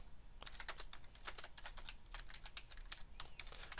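Rapid, continuous typing on a computer keyboard while entering a label in an Excel spreadsheet, a dense run of quiet close clicks with no talk.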